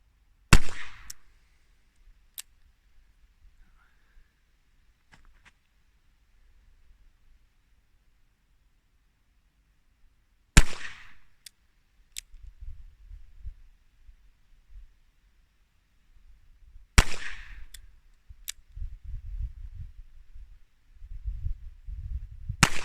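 Three loud, sharp revolver shots from a Colt Police Positive fired single action at a small target, spaced several seconds apart, each a crisp crack with a short echo tail, with faint handling noise and rustling between them.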